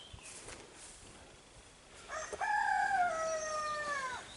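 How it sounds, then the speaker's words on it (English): Crowing from a chicken in a Swedish garden in June: a single drawn-out call rises then slowly falls, heard at moderate distance over steady outdoor background noise. "Yeah, that's a chicken."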